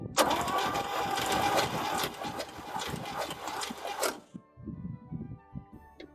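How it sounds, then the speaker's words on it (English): The starter spins the engine of a 1963 Chevy panel Suburban, a smooth, even, rhythmic cranking that runs loud for about four seconds, cuts off and leaves faint clunks and rustling. "It turns over and turns over quite smoothly."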